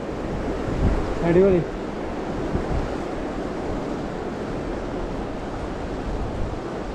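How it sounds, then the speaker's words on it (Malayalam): Wind gusting steadily by an old bridge on a mountain road in Himachal Pradesh, a broad continuous roar across the whole stretch, with someone briefly speaking early on. "ആ കാറ്റടിക്കുന്നു"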